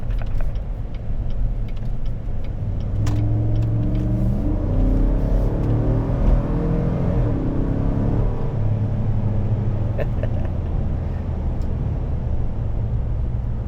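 A 2019 Chevrolet Suburban RST accelerating on the road, its engine rising in a low rumbling drone that builds and shifts pitch steadily from inside the cabin, with road noise underneath and no talking.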